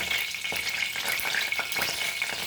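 One and a half teaspoons of mustard seeds hit hot oil for a Goan potato bhaji, giving a steady, close frying hiss dotted with sharp little pops and crackles, with no talking.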